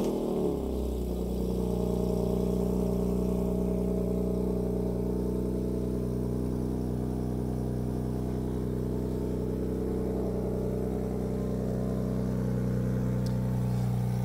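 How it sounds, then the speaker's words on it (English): A BMW Z4 M Coupe engine settles into a steady, deep idle after an initial start-up surge, a continuous low mechanical drone with harmonic tones that holds evenly throughout at close range. "Do you want to start it up then?"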